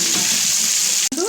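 Fish frying in hot oil in a pan, a loud continuous hiss and sizzle that briefly cuts out near the end before resuming.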